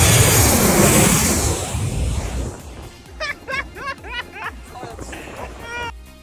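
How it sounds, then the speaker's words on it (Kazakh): A Boeing Dreamliner airliner passes low over a beach while landing, its loud jet roar washing over and fading within a few seconds before nearby people talk and laugh. "Ал мынау ұшақ өзбек ағайындарымыздың Dreamliner самолеті."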